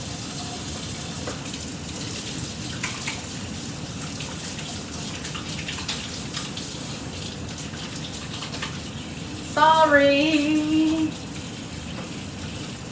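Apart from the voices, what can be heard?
washing hands under running tap water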